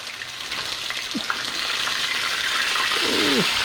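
Sand perch fry in a pan with a steady broad sizzle that swells slightly over a few seconds, with a couple of faint clinks and scrapes along the way and no talking.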